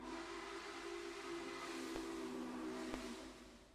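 A locomotive whistle in the railway video game Railway Empire, a steady sustained tone held for several seconds at moderate level over a faint background hiss, with no voices.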